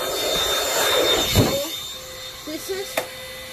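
A small Orec vacuum blows air around an upright cyclonic vacuum to clear pet hair, a close whooshing rush that builds and peaks before dropping off, followed by a few short bumps and clicks.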